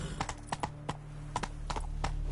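Hooves of Roach, a horse in The Witcher 3, clop in a quick uneven rhythm at moderate distance, a series of sharp thuds over a low background hum.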